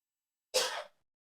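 A single short sneeze, close and fairly loud, bursting out of silence and fading within half a second.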